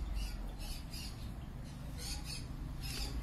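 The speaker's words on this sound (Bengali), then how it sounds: "লাভবার্ড পাখি দেখতে পাচ্ছেন।" Lovebirds in a flock at a bird market give repeated shrill squawks in short bursts over a steady crowded background murmur. The birds sound moderately close.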